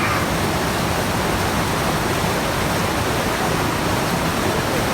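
Loud, close roar of the Lotán cascade at Tumbuco, a dense continuous wall of falling water with no letup and no voices over it.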